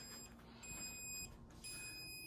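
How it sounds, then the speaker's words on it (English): A Bluetti AC200P portable power station gives off a series of short, high electronic beeps, roughly one per second, faint and close against a quiet room. "And now this is freaking out on me. Let's see what it's doing. It's beeping."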